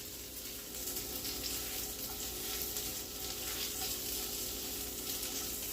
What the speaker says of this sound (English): we got the onions nice brown, golden brown. Let that cook.